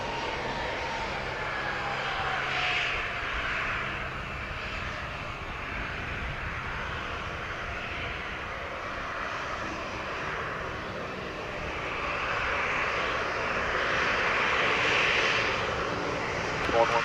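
An airplane landing on runway 07 at Montego Bay, Jamaica, a sustained engine roar that swells toward the end, heard from a distance with radio voices talking over it.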